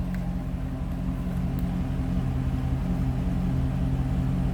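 A 2008 Chevrolet Corvette Coupe 3LT with stock exhaust idles steadily, a deep, even rumble with throbbing low harmonics, close and continuous throughout without revving.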